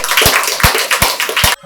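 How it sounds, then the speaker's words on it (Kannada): Audience applause at a vegetarian rally in Basaveshwara Nagar, Bengaluru: a dense crowd clapping steadily and loudly with a few sharp accents, cutting off abruptly near the end. "ಚಪ್ಪಾಳೆ ಮುಖಾಂತರ ಧನ್ಯವಾದಗಳನ್ನು ತಿಳಿಸ್ತೇನೆ"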